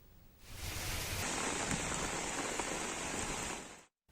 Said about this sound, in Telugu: రాష్ట్ర వ్యాప్తంగా వర్షం దంచికొడుతోంది.